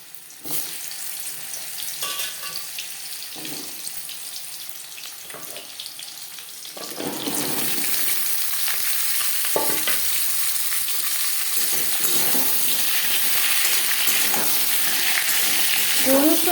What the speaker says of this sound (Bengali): পনেরো কুড়ি সেকেন্ড পাঁচ ফোড়ন শুকনো লঙ্কা ভেজে নেওয়ার পর দিয়ে দেবো কুমড়ো আর পেঁপে